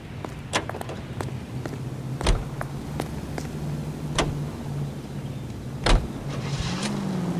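A car drives in the 1940s crime video game L.A. Noire with a steady engine drone, occasional clunks and knocks, and a rising engine pitch near the end.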